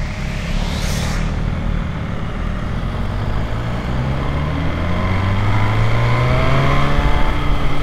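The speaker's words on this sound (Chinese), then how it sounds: "哇，这个油门一加就直接冲出去了。" An MV Agusta Brutale 1000RR naked motorcycle, 208 hp and 186 kg, accelerating hard on the throttle, its engine note rising in pitch through quick-shifted gears over strong wind roar, loud and close.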